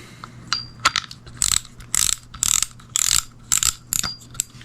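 A spinning fishing reel being reassembled, with its bail snapped closed and the drag put back on: a run of close, sharp clicking and ratcheting bursts in quick irregular succession, no voices.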